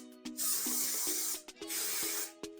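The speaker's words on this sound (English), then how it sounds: "I'm gonna use hairspray" Hairspray is sprayed onto hair in two long hissing bursts, close and steady, with light clicks and rustles between them.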